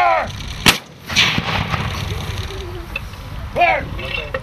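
Musket volley at a battle reenactment, a single loud sharp blast fired on command, with shouted commands and crowd voices around it.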